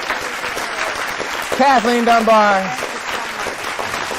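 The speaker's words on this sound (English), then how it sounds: "How about one last final round of applause for Derek Richards" A studio audience applauds the contestants at a championship-round show, with steady broadband clapping throughout while a voice speaks over it.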